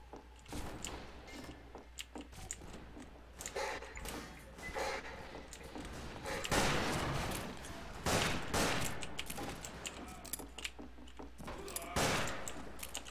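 Derringer pistols firing in the Western shooter game Fistful of Frags, scattered sharp shots and bursts of gunfire over a busy, cluttered background mix.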